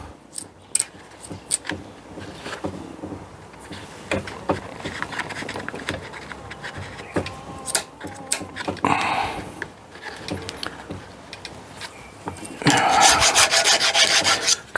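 A hand file rasps across a chainsaw chain's teeth during sharpening, with repeated short scraping strokes up close, growing louder and denser near the end.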